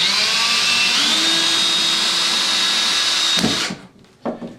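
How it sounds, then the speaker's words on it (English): A power drill whines steadily at close range for several seconds, drilling through a plastic goose decoy shell, its pitch rising slightly, then cuts off, followed by a couple of brief handling knocks. "we're going to drill in our spots here for our decoy line"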